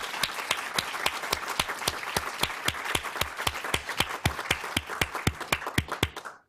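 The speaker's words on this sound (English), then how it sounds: "Let's give them a round of applause." Audience applauding workshop staff at the close of a meeting, a steady run of sharp, evenly spaced claps that sounds like a modest group, loud and near, holding level for several seconds before trailing off abruptly.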